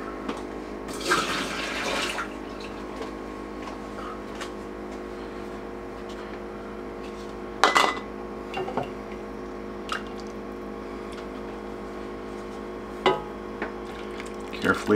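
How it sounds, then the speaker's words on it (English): Duck bone broth splashes and gurgles in short bursts into a jar, with quiet drips and soft clinks in between against a low background hum. "Carefully fill with duck broth."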